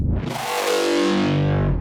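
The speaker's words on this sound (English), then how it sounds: "And kind of stutter the beginning." A harsh, gritty synth bass growls continuously, thick and loud, with a choppy, stuttering start before it settles into a sweeping grind.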